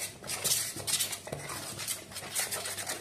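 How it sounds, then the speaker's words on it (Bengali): Spices are mixed into pea pakora batter in a bowl: quiet clinks and scraping stirs of a spoon against the bowl, close but faint, with no talking. "এবার এটাকে আমি ভালো করে মিশিয়ে নেব।"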